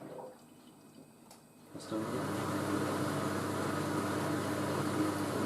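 A washing machine on its final rinse after non-biological washing powder: a quiet hum at first, then water abruptly starts rushing in and keeps up a steady, fairly loud flow to the end, with no voices.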